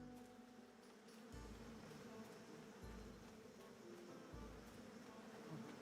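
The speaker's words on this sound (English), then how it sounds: "So we'll avoid the bees." Bees buzz steadily in a video game, with low droning pulses recurring every second or so beneath a continuous hum; no voices are heard.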